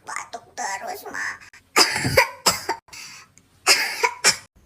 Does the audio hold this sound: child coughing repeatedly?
yes